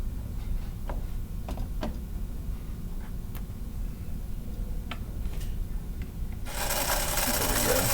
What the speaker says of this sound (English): there's my motor spinning